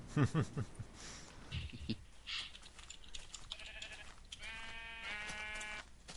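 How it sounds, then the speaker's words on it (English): Sheep bleat in the Minecraft video game, several faint blocky bleats rising toward the end of the stretch under livestream talk. "I hear sheep, but I hope they're getting sheared."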